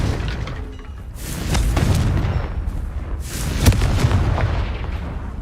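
The Confringo blasting spell in Hogwarts Legacy sets off booming explosive bursts, two heavy rolling blasts with crackling debris between them, loud and close.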